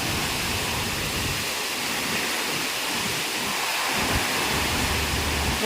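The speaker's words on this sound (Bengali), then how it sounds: "বৃষ্টি পড়ছে।" Heavy rain falls steadily during a storm, a dense, loud, even hiss that runs unbroken from start to end with no voices.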